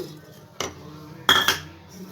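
A pan on the stove takes a cup of grated coconut and a cup of jaggery, making a few sharp metallic clinks and knocks of utensil against pan, close by, over a quiet background.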